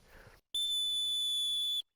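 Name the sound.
whistle blown for dog recall training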